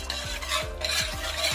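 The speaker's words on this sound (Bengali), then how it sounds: "একটা হুইসের সাহায্যে ভালো করে আর কি মিক্স করে নিচ্ছি" A whisk stirs a milk mixture for white sauce pasta in a pan, brisk rhythmic scraping strokes repeating steadily up close with a faint sizzle underneath.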